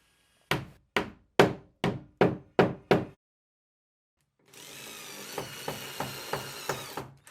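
Seven sharp, evenly spaced knocks ring out, then a power drill whirs steadily with a rhythmic clicking as it drives a screw while installing a sliding shower enclosure, fairly close by.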